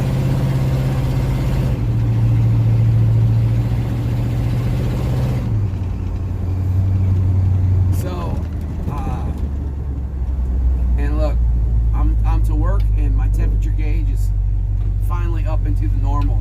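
A 1970 Ford F250 truck engine labors up a hill, a steady low drone that shifts pitch as it pulls, with someone talking over it throughout.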